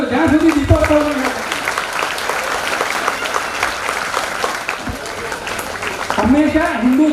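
An audience claps steadily through most of the moment to welcome a lamp-lighting ceremony, with a voice speaking over the opening and closing seconds.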